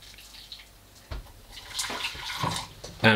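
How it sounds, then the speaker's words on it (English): Water is poured over coffee grounds in a saucepan on the hob to just cover them. It gives a close, splashy, uneven pour that grows louder toward the end, with no talking. "And then I'm going to pour water over just to cover."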